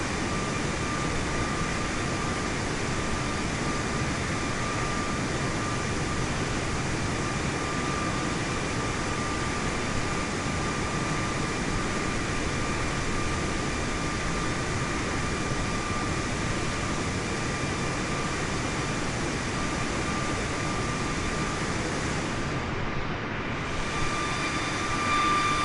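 Steady, loud broadband drone fills an airliner cabin cruising at about 30,000 feet in a Boeing 737 in Microsoft Flight Simulator 2024, an unbroken engine and airflow roar with a faint constant whine, no voices.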